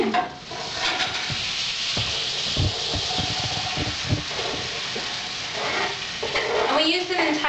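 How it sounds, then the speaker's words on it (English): Chopped yellow onion sautéing in butter in a fresh pan, a loud continuous sizzle broken by scraping and stirring clatter, with a voice speaking briefly near the end. "We're going to saute the onion"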